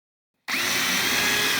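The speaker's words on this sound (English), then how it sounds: "drill the hole, then drive the screw without any fear of splitting the board" Power drill pre-drilling a screw hole in a wooden board: silence, then the drill starts abruptly with a loud, steady high-pitched whir that runs unbroken to the end.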